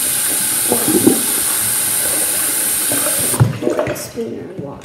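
A spoon is rinsed under a running kitchen tap, giving a steady hiss of water with light clinks and splashes near the end, and no voices over it.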